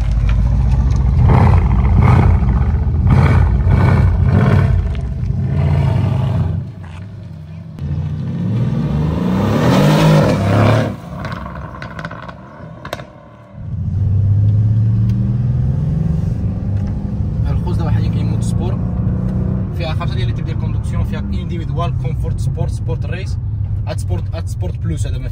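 A Mercedes-AMG 63 S engine idles with a deep rumble, then revs up and burbles back down, loud and close, while someone talks over it.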